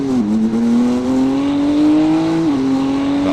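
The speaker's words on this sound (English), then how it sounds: "That BMW does sound gratuitously good" BMW race car engine in a sim racing game at Laguna Seca, heard close and loud as one steady high-pitched drone, with a quick drop in pitch near the start and another around two and a half seconds in.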